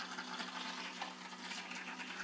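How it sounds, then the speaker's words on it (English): Water flows through a toy boat race course, a faint, steady trickling and gurgling wash that carries on evenly with no talk over it. "Get the water flowing?"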